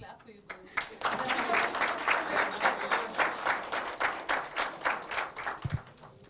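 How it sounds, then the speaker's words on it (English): Audience at an HR conclave panel discussion breaks into applause after a brief pause, steady clapping sustained for several seconds at moderate level, with some voices mixed in. "Can we clap for you both?"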